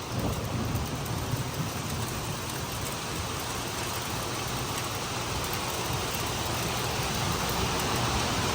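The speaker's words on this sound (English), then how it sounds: "it's raining like crazy. It's hailing, I think, and we have a metal roof," Heavy rain and hail drum on a metal roof in a workshop, a loud, dense, unbroken roar that holds steady throughout with no speech.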